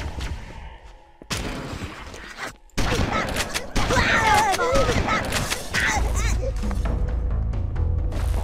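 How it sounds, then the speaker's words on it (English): Shotgun fire in the video game Halo: Combat Evolved, heard as loud, close booming blasts and rapid bursts of gunfire with a brief gap of quiet, while a voice talks over parts of it. "I'm gonna use a shotgun now"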